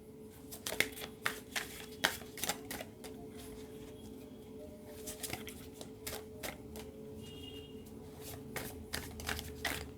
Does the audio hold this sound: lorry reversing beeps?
no